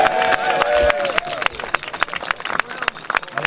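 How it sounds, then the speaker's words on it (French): Crowd applause at an outdoor Montmartre grape harvest festival, dense close clapping and cheering with voices mixed in, briefly overlapping the end of a spoken line before the clapping carries on alone. "applaudissez-les"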